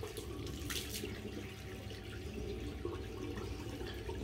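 Tap water runs steadily into a sink during a face rinse after shaving with a safety razor, with soft splashing close by. The sound is quiet and continuous, and no one speaks.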